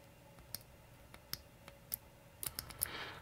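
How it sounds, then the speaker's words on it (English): A titanium bolt-action pen mechanism clicking, with several sharp, faint, close clicks scattered irregularly over a quiet background. "Oh, that's a beautiful click."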